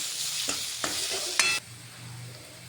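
Crushed coriander and fennel seeds being stirred into a bread pakora mixture in a pan: several distinct close scrapes of the spoon, with a soft sizzle and hiss underneath that fades to a low hum at the end.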